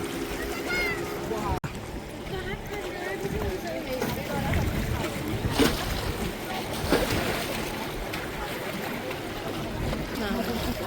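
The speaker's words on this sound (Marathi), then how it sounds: "हा बोटिंग चालू आहे इकडं बोटिंग चालू आहे" Boats move across the water at a busy boating spot among crowds of people. A steady wash of water and wind noise runs throughout, with voices talking over it.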